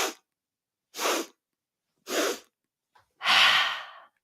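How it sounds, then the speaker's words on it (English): A person doing a breathing exercise in a yoga session, breathing in through the nose and out through the mouth: three short, even breaths at a steady rhythm, then a longer, louder exhale, close and alone. "It's going to be breathing in through the nose and then out through the mouth."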